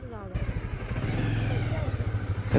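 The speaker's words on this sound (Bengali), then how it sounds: "ছায়া জায়গায় মোটরসাইকেল রাখো" A motorcycle engine runs close by at Katakhali railway station in Bagerhat, a steady low throb with a faint rev, while people talk over it.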